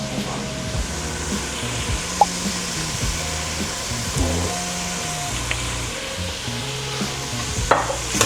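Beef and vegetables stir-fry in a pan with oyster sauce, giving a steady sizzle under a constant fan-like hum, with occasional utensil scrapes and clinks.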